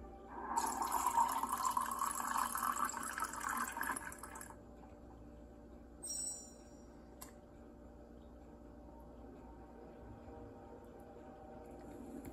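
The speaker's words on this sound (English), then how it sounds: "Let's get some water." Water being collected in the video game Ghost Encounters: Deadwood, with a loud running, splashing pour lasting about four seconds, then quieter ambience and a brief clink.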